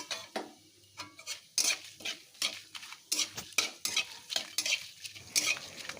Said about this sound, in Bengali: এখন ফোড়নটা বেশ ভেজে নিচ্ছি ফোড়ন থেকে একটা সুন্দর স্মেল আসা পর্যন্ত ভেজে নেবো একটা শুকনো লঙ্কাও দিয়ে দিলাম ফোড়নে